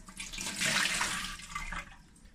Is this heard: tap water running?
yes